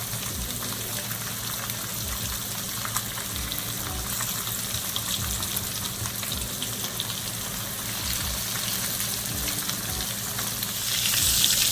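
Floured curry fish fries in hot oil with a steady, close crackling sizzle that swells slightly louder toward the end, with no voices.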